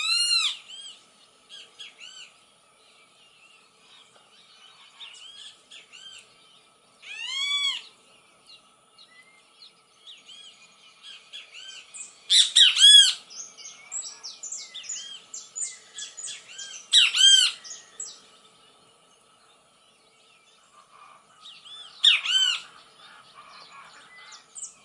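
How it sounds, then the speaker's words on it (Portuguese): Great kiskadee (bem-te-vi) singing alone in several separate bursts of loud, clear, ringing calls with brief pauses between, some notes closer and louder, over a quiet faint background. "Que lindo o canto do bem-te-vi?"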